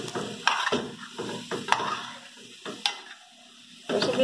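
A spoon scrapes and stirs a cuscuz mixture with flour in a pan, giving several distinct scraping strokes over a soft sizzle, close up with no talking.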